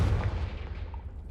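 A single heavy blast from the Confringo spell in Hogwarts Legacy booms low and loud at the start, then fades out over about a second.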